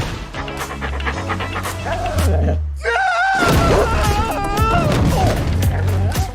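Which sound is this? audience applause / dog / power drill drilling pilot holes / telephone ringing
dog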